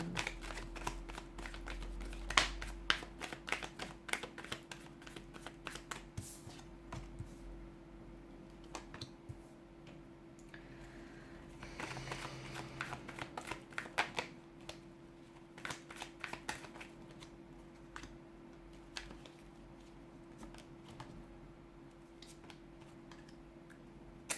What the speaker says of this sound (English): give the cards a shuffle and begin